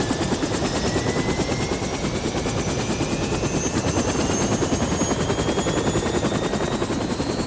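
A helicopter lifting off, its loud continuous rotor thumping and turbine whine filling the scene steadily with no speech over it.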